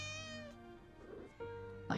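A British Shorthair cat meowing in a TV show, a long, drawn-out, somewhat plaintive meow followed by a second rising meow, heard clearly in a quiet room with no talking.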